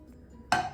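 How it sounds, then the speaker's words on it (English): About 50 cc of water poured onto meat and vegetables in a hot pan for a Japanese beef, green onion and mushroom bowl, giving one sudden close sizzling burst that quickly fades. "and to that I will add probably about 50 cc of water"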